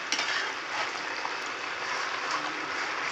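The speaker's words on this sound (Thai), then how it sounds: "ทอดแคบหมูหั่นแหละ" Pork rinds fry in oil rendered from pork fat, producing a continuous crackling sizzle with small pops and bubbling throughout, close and fairly loud, with no talk.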